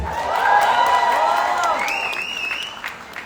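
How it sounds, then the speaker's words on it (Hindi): Applause and cheering from the audience at the Pathaan film press conference swell and hold steady, with whistle-like tones and raised voices riding over the clapping. "एक बार जोरदार ताली होनी चाहिए।"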